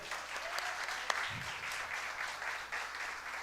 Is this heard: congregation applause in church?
yes